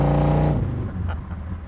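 A 1932 Plymouth street rod's engine roars close by, then shifts and drops in pitch as it accelerates away, with no talking.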